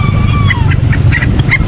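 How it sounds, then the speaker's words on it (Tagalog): Chickens at a pet market in Angeles City give short, scattered clucks over a steady low murmur of crowd noise, brief and close. "May mga manok din sila dito."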